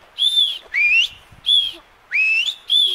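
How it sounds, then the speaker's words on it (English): A whistle is blown five times in quick succession, alternating steady and rising shrill tones, loud and close with short gaps between blasts. "He heard the whistle."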